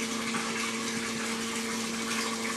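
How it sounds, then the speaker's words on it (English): Water flows steadily through a horizontal pipe system in a friction loss experiment, producing a constant hiss and rush with a faint steady hum underneath and no talk. "The water is flowing steadily through the system."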